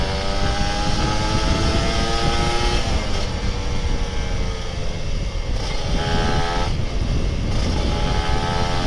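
An old Kawasaki Ninja RR 150 two-stroke motorcycle revs loudly and steadily on a test ride, the engine pitch climbing and dropping through several throttle changes with no one talking.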